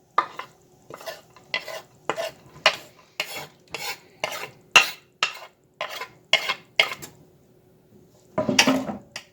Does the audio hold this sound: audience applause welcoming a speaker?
no